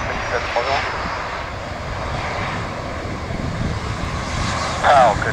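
Fixed-wing aircraft engines at London Luton Airport give a steady, fairly loud broadband roar across the whole stretch, swelling slightly near the end, with a voice heard faintly in the background.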